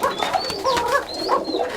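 Giribaj pigeons coo at a farm in a short, close series of soft, warbling coos that rise and fall in quick succession, with no voices.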